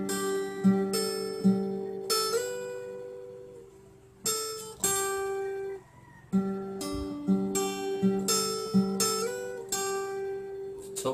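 Fingerstyle acoustic guitar plays the intro of a song as clear plucked notes and short phrases, with pauses and a slide, close and alone with no talking.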